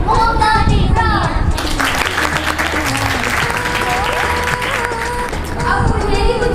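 An audience at an Eid-e-Qurban program bursts into full applause and cheering for a host, with crowded clapping throughout, children's voices and some shouting mixed in.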